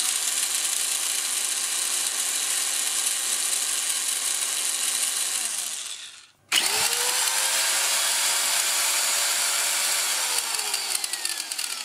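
Parkside PMKA 20-Li A1 cordless nibbler cutting sheet metal: a steady, close, high-pitched mechanical whine with rapid rattling punches, stopping briefly near the middle then resuming at full speed, with no talking.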